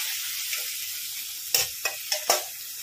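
Vegetables fry in a pan, giving a steady broad sizzle with several sharp stirring scrapes and clinks toward the end, close and fairly loud, no talking.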